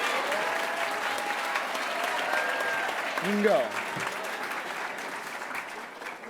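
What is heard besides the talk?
audience applause at awards night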